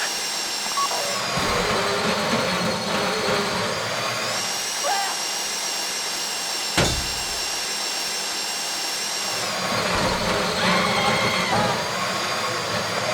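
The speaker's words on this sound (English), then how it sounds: "How you doing with that drill?" A power drill whirs steadily through a heist in the video game GTA, a dense, continuous mechanical drone with slight shifts in pitch, loud and close throughout, with faint voices now and then.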